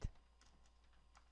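Soft computer keyboard typing on a Windows 11 PC: a handful of quiet, separate keystrokes tapped at an irregular pace, close up in a silent room.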